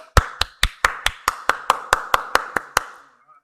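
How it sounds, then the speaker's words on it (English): A dozen sharp hand claps in a steady, even rhythm, close and clear with no talking, ending abruptly. "Everybody give me clapping up."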